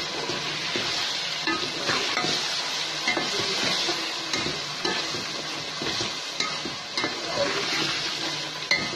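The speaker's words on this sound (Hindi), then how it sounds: "देखिए अब हम तलेंगे इसको।" Pieces of meat fry on high heat in a pot for biryani, giving a continuous loud sizzle broken by repeated scraping and clanking as they are stirred.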